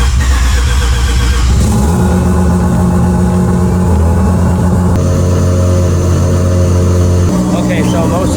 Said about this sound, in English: let's go ahead and fire up the engine